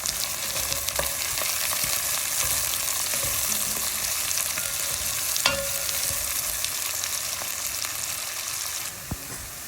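Onions, green chillies and pandan leaves fry in hot oil while being stirred for a brown crab gravy, a loud, steady sizzle running throughout with occasional scraping strokes from the stirring utensil.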